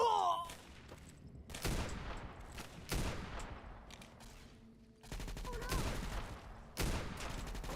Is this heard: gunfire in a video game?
yes